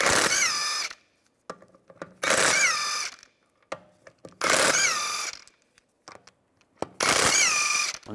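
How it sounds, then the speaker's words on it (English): An impact gun with a 17mm socket spins lug bolts out of a 2004-2010 BMW X3 rear wheel, four loud whirring bursts of under a second each, separated by clinks and taps of handling, close with no talk. "Use a 17mm socket to take the lug bolts out."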